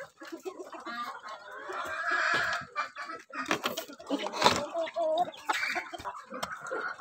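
Barred Plymouth Rock chickens cluck and squawk in a coop, a busy, fairly close flock with irregular calls throughout and occasional louder bursts.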